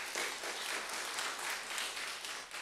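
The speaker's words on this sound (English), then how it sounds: "So I want to applaud the congregation." A church congregation applauds during a traditional Sunday service, a steady, dense wash of many hands clapping together at moderate distance, sustained without a break.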